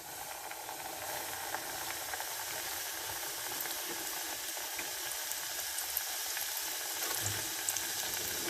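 Chicken coated in ready-mix batter frying in deep oil gives a steady, dense hiss and sizzle that carries on unbroken and fairly loud, with no voices.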